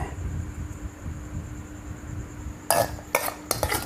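Plates and cutlery clatter in short, sharp bursts as food is plated in a kitchen. Three close, bright clinks rise over a low background hum.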